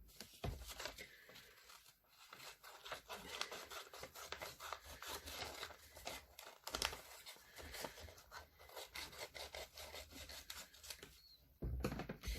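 Scissors cutting a sheet of origami paper, a soft, close, continuous rasping snip-and-slide that runs for several seconds at low volume, with a brief pause midway and no voices over it.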